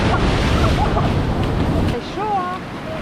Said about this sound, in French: une petite plage bleue cristalline et des grosses vagues qu'on aime bien